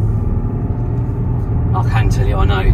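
A 2015 Audi SQ5 3.0 BiTDI V6 Tiptronic quattro drives along a road, its low, steady engine and road rumble running close throughout while someone talks over it.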